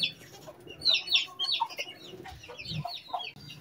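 Hens and a tall rooster of a rare, unusual breed kept as pets, giving a run of soft clucks and short squawks, close and moderately loud with brief pauses between calls.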